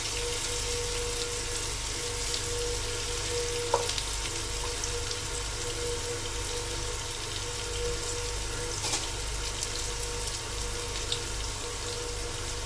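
Potatoes dusted with turmeric fry in oil with a constant, even sizzle close by, broken only by a couple of faint clicks from the pan.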